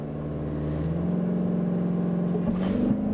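Lexus NX engine accelerating from close by, a steady rising hum and whir whose pitch climbs smoothly as the car gains speed, with no talking.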